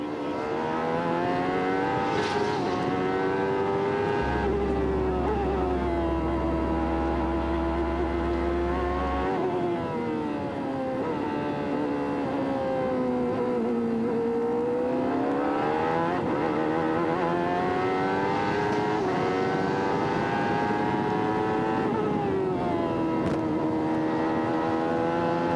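Onboard engine of an IndyCar during the 1994 Mid-Ohio race, a loud continuous high-pitched wail rising and falling steadily through gear changes and corners, with no talking.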